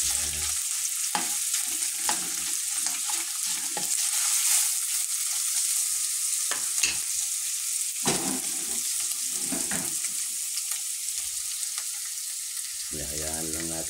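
Ground meat stir-fried in a pan hisses with a constant broadband sizzle, broken by scraping and stirring strokes throughout, with no talk.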